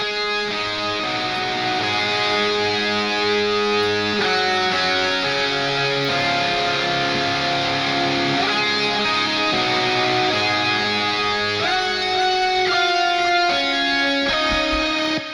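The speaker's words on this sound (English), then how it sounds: "that guitar sounds like this" A distorted electric guitar plays a lead line alone, sustained gritty notes shifting in pitch over a continuous thick tone.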